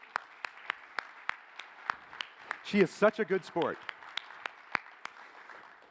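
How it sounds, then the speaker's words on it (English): Audience applause for a president taking the stage, heard as sparse, regular claps spread through the clip, with a voice talking over it near the middle. "Let's give a round of applause"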